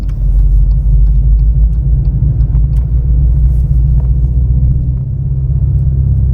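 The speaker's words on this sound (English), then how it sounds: "that's fake exhaust noise. That's a freaking speaker and amplifier back here." Synthetic Fratzonic exhaust note from a 670 hp Dodge Charger Daytona EV, played through a speaker and amplifier at the rear of the car: a loud, steady, deep rumble that holds close and continuous throughout, with no talking.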